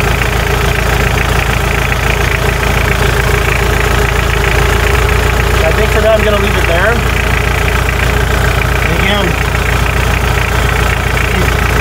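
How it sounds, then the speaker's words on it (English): A steady diesel engine with a VE injection pump idles loudly and continuously throughout while someone talks over it. "stop the engine from running"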